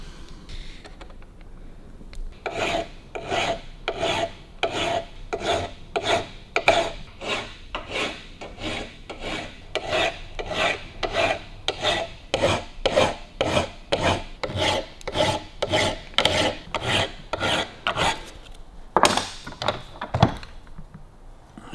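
Steady back-and-forth rasping of a file cleaning up a thread on a Harley-Davidson WLC part, about two strokes per second, close and loud, continuing for around twenty seconds with no talk.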